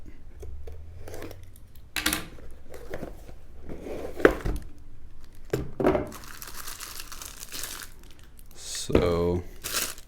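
Cardboard packaging for an Eafengrow EF148 full tang fixed blade knife is cut and torn open, with crinkling wrap, scattered snips and rustles, and a louder tearing burst near the end, under occasional talk.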